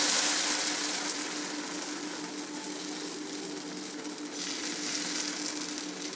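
Thick uttapam batter made from leftover rice sizzling on a lightly oiled hot pan, a steady close hiss holding at an even level throughout with no talking.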